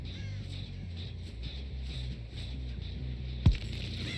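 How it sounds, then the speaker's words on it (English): Crows cawing in the Dead by Daylight video game, faint repeated calls over a low rumbling ambient drone, with a single sharp thud near the end. "There goes the crows"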